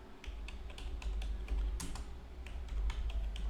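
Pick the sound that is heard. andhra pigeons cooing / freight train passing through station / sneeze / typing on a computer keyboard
typing on a computer keyboard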